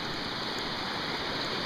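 A small waterfall fed by a spring that broke out under a road during tropical storm rain, flowing down into jungle: a steady, dense rush of splashing water, close and constant, with no voices.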